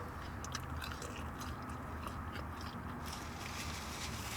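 Close, steady crunchy chewing of french fries during a mukbang meal of cheeseburger, boneless wings and mozzarella sticks, continuous with no talking.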